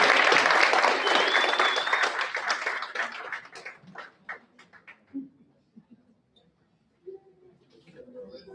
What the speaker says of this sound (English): A big round of applause for our next group.